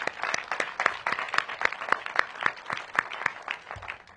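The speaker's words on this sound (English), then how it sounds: "Let's give them a round of applause" Audience applause at the opening of a permanent supportive housing building, sharp distinct hand claps in a fairly regular rhythm, moderately close and not very loud, from a small group.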